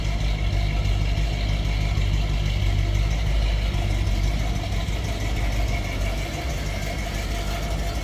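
A 1961 Cadillac Series 62 convertible's 390 V8 with automatic transmission idles steadily with a deep, continuous low rumble, close by and loud, with no voices.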